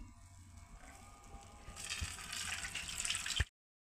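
Fermented soaking water, foamy and sour after four days, is poured off soaked bajra millet, rising from a faint trickle into a close, steady splashing gush that stops abruptly.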